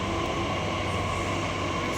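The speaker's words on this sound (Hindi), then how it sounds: "मेट्रो आने वाली है नोएडा की, निकलती है।" A Noida metro train rumbles steadily at a station, a loud continuous hum and roar that fills the whole stretch with no pause.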